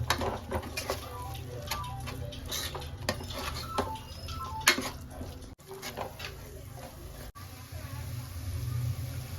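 Coriander powder being mixed into mutton biryani masala in a pot, with soft scraping and light ticks of a spoon against metal, close and fairly quiet, with a brief louder clatter midway.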